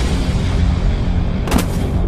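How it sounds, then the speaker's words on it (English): A gunpowder cannon loaded with rocks fires one sharp, booming shot partway through. The blast sounds loud and close over steady background rumble. "This cannon launches ili-ili at more than 600 feet per second."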